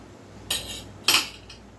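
Metal fork scraping and clattering against a pan while food is mixed, two clear scraping strokes and a faint third, close and fairly loud with no talk.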